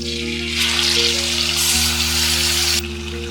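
Mutton pieces hit hot ghee with whole spices in a pan and set off a loud, continuous close-up sizzle and crackle, alone over a low steady hum from the kitchen.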